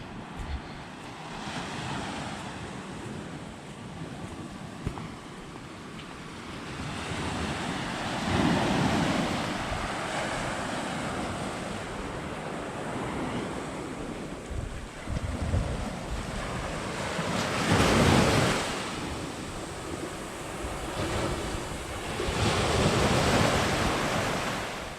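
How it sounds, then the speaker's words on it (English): Wind gusts across a beach at Club Med Turkoise in Turks and Caicos, a steady broadband roar with buffeting on the microphone and the wash of surf beneath, swelling in several stronger gusts with no talk. "And hopefully the wind's not too bad out here."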